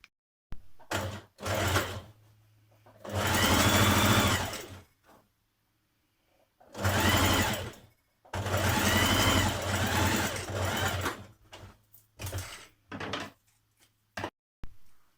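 A sewing machine stitches pocket seams on a maxi dress in several loud bursts of whirring, each lasting a second or two, separated by short pauses and small clicks of handling.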